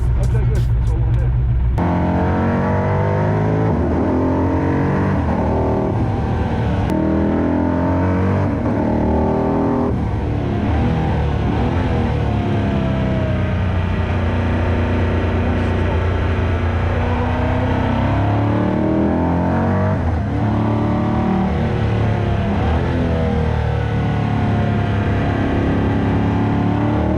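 A Porsche 911 GT2 RS and other supercars drive at Brands Hatch, making a loud, continuous engine roar with rising and falling revs that runs throughout beneath voices.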